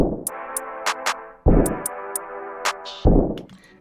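Go yard clap in a drill beat, sharp bright clap hits repeating in a simple syncopated pattern over a sustained bass-heavy melodic bed that swells back in twice.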